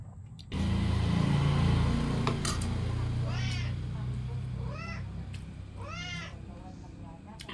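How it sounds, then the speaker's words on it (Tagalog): A pet cat meows repeatedly in a home, four or five rising-and-falling cries close by, heard over a steady engine-like rumble that starts early on. "Yung pusa ko nagwawala na."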